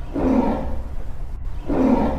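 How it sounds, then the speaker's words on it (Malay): A tiger roars twice, deep and loud, each roar rising and fading with a pause between, close and alone with no talk. "Tiba-tiba dia dengar satu bunyi ngauman. Ngauman tu macam ngauman harimau."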